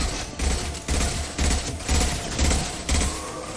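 Machine gun fire in the video game Mass Effect 2, loud repeated bursts with short gaps between them, each a rapid rattling volley dominating the mix.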